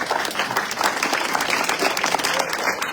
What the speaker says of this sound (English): So this whole audience needs to stand up and applaud you.